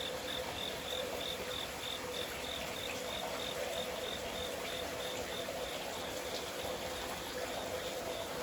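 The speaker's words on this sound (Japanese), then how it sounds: "虫の音が聞こえます。" Crickets and other insects chirp steadily in a thin, continuous high trill against a quiet early-morning backdrop at a hot-spring inn among the trees in Kurokawa Onsen, with faint running water beneath.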